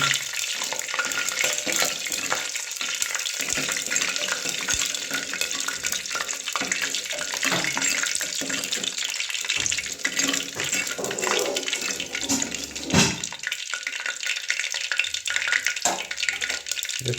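Bay leaves frying in very hot oil inside a clay pot for a handi chicken on a gas stove, with a steady close hiss and crackle running throughout and occasional scrapes of stirring.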